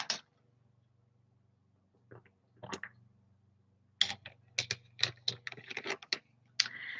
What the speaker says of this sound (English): Gotta open a bottle